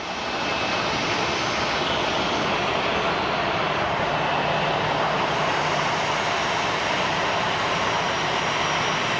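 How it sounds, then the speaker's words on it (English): A Boeing 767 takes off from Phoenix Sky Harbor International Airport with a loud, steady jet engine roar. The broadband rumble holds constant throughout with no pauses. "Our Boeing 767. That is going to be departing for LAX. Let's listen to that bad boy take off."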